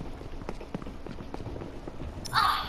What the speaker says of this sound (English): I can easily hear their footsteps.